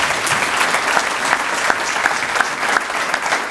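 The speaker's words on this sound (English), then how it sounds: "let's give these folks a round of applause for all they've done" An audience at a transportation forum gives a sustained round of applause, many hands clapping close together in an even, continuous patter for a few seconds, with no talking over it.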